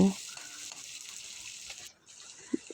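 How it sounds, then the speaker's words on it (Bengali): Chopped onion and green chili sizzle in hot oil in a pan, a constant bright hiss that briefly drops out, then a small clink near the end. "তেলের মধ্যে দিয়ে দেব কেটে রাখা পেঁয়াজ ও লঙ্কা কুচি দিয়ে খুব ভালোভাবে একটু ভেজে নেব"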